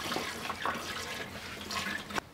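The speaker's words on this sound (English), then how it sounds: "I'll just pour my coolant in until it gets to the max line on the overflow" Car coolant poured through a funnel into an overflow bottle gurgles and trickles softly and continuously at close range, ending with a brief clunk.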